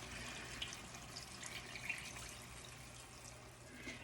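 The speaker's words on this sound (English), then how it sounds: "And we're gonna add 1 cup of beef stock." Beef stock, a full cup, pours steadily into a pan, a soft continuous liquid trickle and splash at low volume with a few faint drips, no talking.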